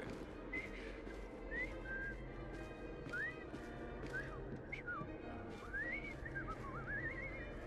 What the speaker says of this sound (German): Oh ja, ich habe gerade gelernt zu pfeifen.